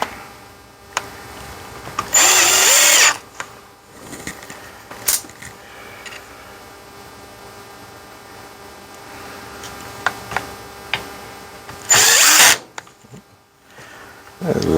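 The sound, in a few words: power drill driving screws back into a Ford 6.0 FICM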